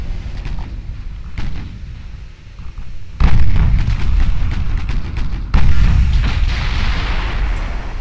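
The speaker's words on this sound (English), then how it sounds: "Secondary guns opening up." Naval secondary guns fire in Ultimate Admiral Dreadnoughts, loud booming blasts with two big reports about three seconds apart over a continuous rumbling battle din, with smaller distant shots scattered before.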